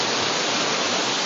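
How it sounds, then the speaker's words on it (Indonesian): A tall waterfall at Piramida in Samalanga, Aceh, roars as a dense, steady rush of falling water with no pauses, loud and constant throughout. "Saya nge-vlog di air terjun yang paling tinggi."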